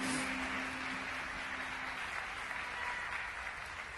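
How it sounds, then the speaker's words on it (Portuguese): Congregation clapping together in a church, a dense, even round of applause that holds steady throughout, fairly soft and distant-sounding, with a faint tone lingering underneath early on. "Uma salva de palmas, gente."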